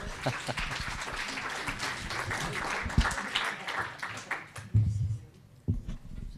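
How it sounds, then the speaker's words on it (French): An audience at a lecture on forensic medicine claps briefly while a speaker keeps talking, the applause fairly soft and mixed under the voice before fading out. "Vous pourrez l'applaudir, hein, c'était formidable"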